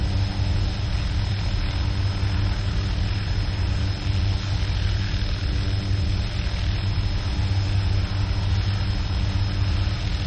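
Helicopter engine in Arma 2, a steady loud drone with low rumble and broadband rotor wash that continues unbroken throughout, with no voices.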